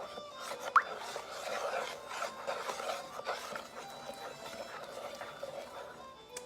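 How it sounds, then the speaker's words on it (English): A spoon stirs a multi-grain bread mixture in a bowl, a soft, continuous gritty rubbing and scraping close at hand, with a small knock near the start. "Okay, just give that a stir."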